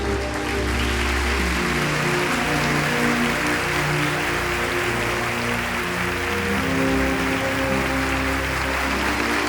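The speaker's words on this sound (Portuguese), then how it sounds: "Uma salva de palmas para ele." Steady, dense applause from a large audience at an indoor religious forum, continuous clapping filling the space without voices.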